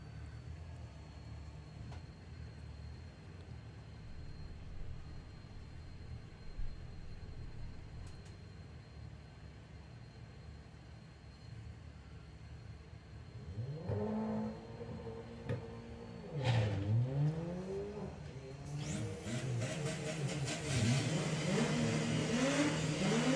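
Drag racing cars at Santa Pod, including a blue VW Beetle, idle with a low rumble from a distance before one launches with rising, sweeping engine revs that build louder toward the end.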